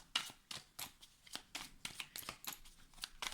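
Tarot cards being shuffled in quick rhythmic riffles and flicks, about a dozen crisp papery bursts close to the microphone, fairly soft with no voice over them.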